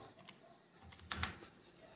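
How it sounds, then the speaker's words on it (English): Typing a filter name on a computer keyboard, a short run of soft, close key clicks with a denser cluster of taps in the middle. "So here we type a filter name."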